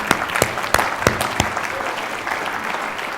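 An audience at an international business conference claps, a burst of sharp, loud hand claps at the start that settles into a steadier, softer patter of applause.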